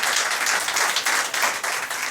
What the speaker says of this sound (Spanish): Un aplauso para estos voluntarios.